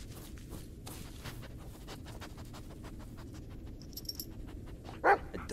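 A dog pants and sniffs in the horror video game Blair Witch, with a steady, close breathy rasp that runs throughout, light scratchy movement behind it, and a sharper sound near the end.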